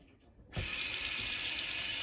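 Tap water gushes steadily into a cooking pot after a quiet start, a loud continuous splashing rush that holds to the end.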